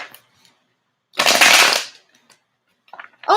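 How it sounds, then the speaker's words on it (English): A deck of tarot cards is riffled in one loud, crisp burst lasting about half a second, with lighter card handling noises before and after. "cards don't want to shuffle right now"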